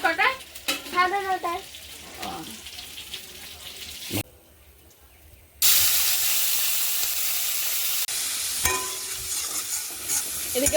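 Shrimp frying in a kadai in a home kitchen, a loud, bright sizzle that bursts in after a brief quiet and hisses steadily, with a voice heard earlier.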